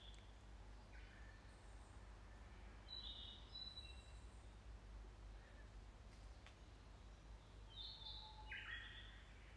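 A Japanese bush warbler sings outdoors during a walk, a few faint whistled phrases rising from a steady low background rumble.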